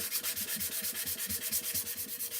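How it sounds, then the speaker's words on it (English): A small handheld sander smooths a dried wooden sign with a fast, rhythmic rasping scrub, about a dozen even strokes in quick succession, close and steady, with no speech. "little sander and smooth it out."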